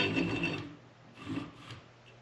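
A fly-tying twister tool spins material for dressing a 7/0 Jock Scott salmon fly, giving a soft close rasping whir in two short bursts.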